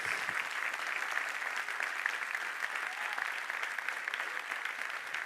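Church congregation applauding throughout, a dense steady wash of many hands clapping at even loudness with no break.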